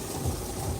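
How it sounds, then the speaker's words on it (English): A low, rumbling roll of thunder follows a big lightning strike during a storm, heard as a brief, steady, moderately faint boom with no voices over it. "woo, big lightning."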